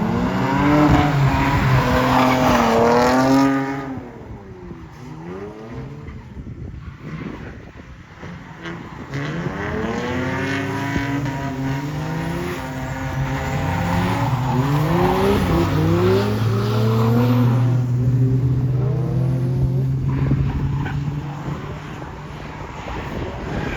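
A Ford XR6 Turbo drifting, its engine revving and falling through long sweeping pitch changes with tire squeal, loud and sustained over about twenty seconds with no talk.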